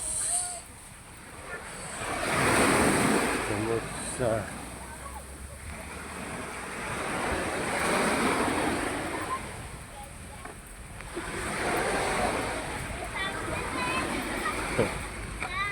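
Sea waves wash and splash at a beach where children swim, rising and falling in surges under wind noise while people talk and call out nearby.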